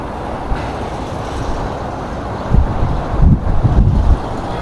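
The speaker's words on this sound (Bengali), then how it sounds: "প্রচুর হাওয়া, প্রচুর হাওয়া।" Strong wind buffets a phone microphone outdoors, producing a loud, continuous low rumble with heavier gusts swelling in the second half.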